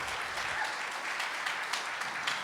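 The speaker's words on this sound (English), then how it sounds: "clap it up" Audience applause at a poetry reading, a steady patter of many hands clapping, fairly faint and distant, continuous for the whole stretch with no voices over it.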